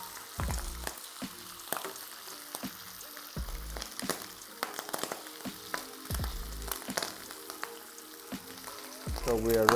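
Burger buns toasting in a hot pan, a soft, continuous sizzle broken by repeated low thumps and scraping as the buns are placed and moved, with a faint voice in the background.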